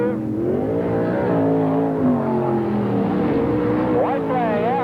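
Sprintcars race at Parramatta City Raceway in the 1981/82 season, a loud, continuous, close engine roar with sliding pitch changes as cars go into a turn, with a commentator speaking over it the whole time.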